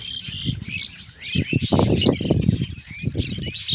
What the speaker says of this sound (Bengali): এই গাছটায় অনেক পাখি বসে আছে